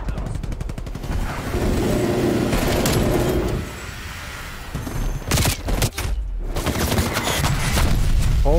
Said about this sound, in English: Whole fucking machine gun.